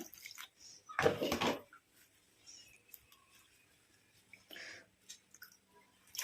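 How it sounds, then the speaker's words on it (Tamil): Water splashes and sloshes in a short burst as hibiscus flowers are rinsed by hand, followed by quieter trickles and a second splash. "இதில் வந்து தேவையான அளவு தண்ணி ஊற்றி நல்லா வாஷ் பண்ணிட்டு எடுத்துக்கலாம்"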